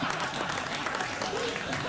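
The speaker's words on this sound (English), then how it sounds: "Why are you applauding that?" A late-night TV talk show studio audience claps in a dense, sustained burst of applause that fills the room evenly, with a voice speaking over it.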